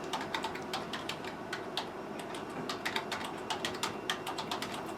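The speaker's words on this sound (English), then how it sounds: "now hit start typing" Rapid typing on a computer keyboard during a typing-speed test, a dense stream of quick, close key clicks with a steady rhythm and no talking.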